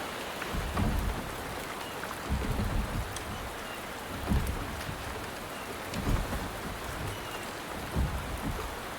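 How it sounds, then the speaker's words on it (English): Steady rain falling in the video game Wuthering Waves, a dense continuous patter with low rumbling swells of thunder rolling in every few seconds, no voices. "The rain is subsiding, and the sky will soon clear."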